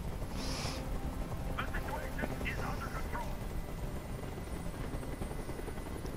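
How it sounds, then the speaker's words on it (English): Steady helicopter rotor drone hovering close by in the video game Detroit: Become Human, loud and continuous, with faint voice fragments and effects under it. "Tell that helicopter to get out of here."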